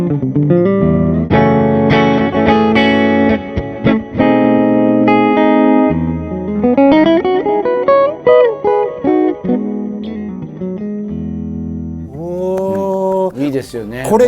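Electric guitar tones from a Gibson SG with P90 pickups played through a series pedal board with no reverb, loud chords and sustained notes ringing close up, with short pauses between phrases and a few bright high notes near the end.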